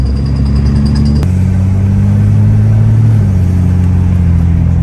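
A Ford XD Falcon with a BW35 automatic transmission drones along at steady engine hum, then a sharp shift point where the engine note drops as the gearbox changes up, loud and close from inside the car.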